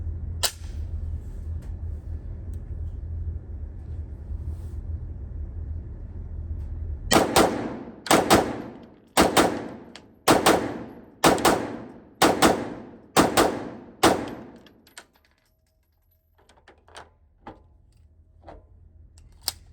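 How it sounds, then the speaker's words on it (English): A Walther PDP Pro SD pistol fires a rapid string of sharp, loud shots at a steady pace, each report ringing briefly before the next, then the shooting stops and the range falls quiet. "So I'll run the Walther first. I'm doing 15 rounds out of both."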